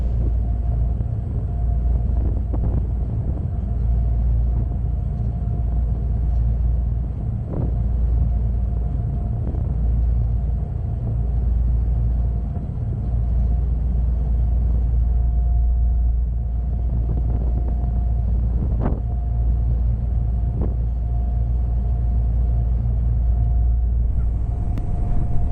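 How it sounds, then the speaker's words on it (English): Inside a passenger catamaran ferry crossing from Portsmouth Harbour to Ryde Pier, a loud, steady low engine drone and hull rumble continues throughout, with a constant mid-pitched hum and occasional faint knocks, no talking. "you can take the passenger catamaran service, which we're on now"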